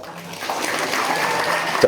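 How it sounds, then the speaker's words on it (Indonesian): Applause from a gathering at a Maulid Nabi religious event at an Islamic boarding school, honoring a guest scholar: clapping rises after a brief quiet start and holds at moderate loudness, slightly muffled and roomy. "Coba kasih tepuk tangan kepada beliau."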